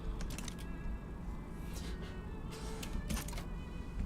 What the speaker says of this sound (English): It's loud. Car outside.